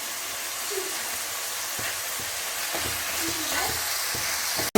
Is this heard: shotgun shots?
no